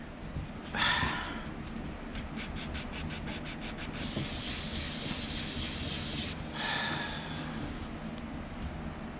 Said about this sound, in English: Basically sanding it away.